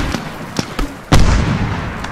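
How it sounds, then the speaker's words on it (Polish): A grenade explosion in the video game Medal of Honor Warfighter, a loud boom after a few sharp clicks and taps, then a rumbling sustained tail, with a voice briefly in the mix. "puszczę taką granata"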